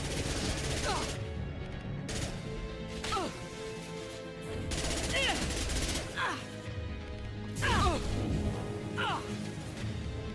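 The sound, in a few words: gunfire in Mass Effect 2 video game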